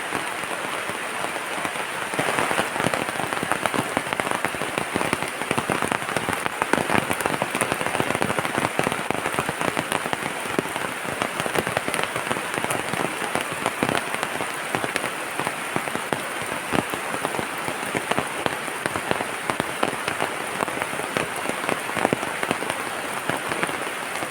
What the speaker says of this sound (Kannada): ಮಳೆ ಬಂದುಬಿಡ್ತು ಹಾಗೆ ನಿಂತ್ಕೊಂಡಿದ್ದೀನಿ